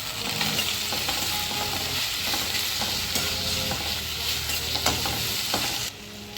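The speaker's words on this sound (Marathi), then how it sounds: "आता यामध्ये आपल्याला किसून घेतलेल्या बटाट्याचं किस घालून घ्यायचं आहे आणि त्यालाही छान असं परतून घ्यायचं आहे" Grated potato sautés in a hot pan with steady sizzling and frequent scraping stir strokes, close and continuous with no talk.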